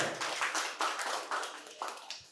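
A small audience at a medical college quiz gives a short burst of light, uneven hand clapping. It sounds close and fairly soft, the claps land in loose rhythmic pulses, and no voices are heard.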